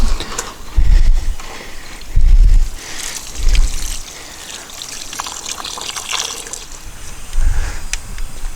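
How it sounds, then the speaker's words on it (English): Water gurgles and drains through a newly installed sewer line clean-out, with bursts of deep glugging surges between steadier trickling and splashing, close and fairly loud. "I'm hearing all kinds of gurgling in there, so I suspect it's clearing some more"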